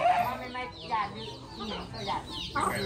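Several chickens cluck and squawk in short, scattered calls at moderate distance, over a low background murmur.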